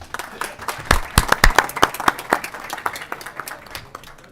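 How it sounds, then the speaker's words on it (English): Audience applause fills a state senate standing committee room on licensing and occupations, a burst of hand clapping from a modest crowd that rises, peaks and tapers off over a few seconds. "Let's give them a round of applause, folks."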